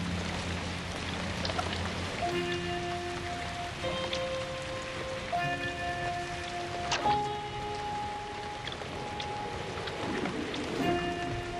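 Heavy tropical rain pours down in a steady, dense hiss of drops hitting surfaces, continuous throughout, with soft sustained musical tones layered over it and no talking.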